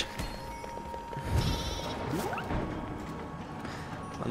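Sheep bleat amid crashes and whooshes in the video game Flockers, a few short bleats mixed with thuds and sliding effects over a busy game soundscape, moderately quiet.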